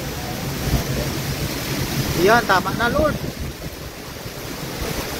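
Strong storm wind roars and buffets steadily outdoors near a house, loud and broadband throughout, with a brief voice speaking over it midway.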